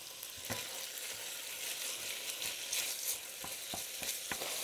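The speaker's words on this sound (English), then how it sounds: "we're going to fry that off and start to brown it" Ground beef sizzles and crackles in a little oil in a Dutch oven, a steady close frying hiss broken by occasional scrapes and stirs, with no one talking.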